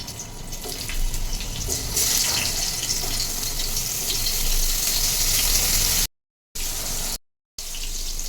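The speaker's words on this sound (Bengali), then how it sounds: "এদিকে পটল যতক্ষণে ভাজা হচ্ছে" Steady hissing sizzle of pointed gourd frying in hot mustard oil, close and continuous, briefly cut out twice near the end.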